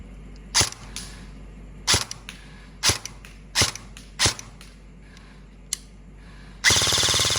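An E&C 340 Strike Industries airsoft electric gun fires a series of sharp, separate single shots with irregular pauses between them, then a steady loud whirring hiss at the end.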